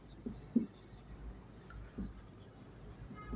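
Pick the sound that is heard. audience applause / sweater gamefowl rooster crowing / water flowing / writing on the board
writing on the board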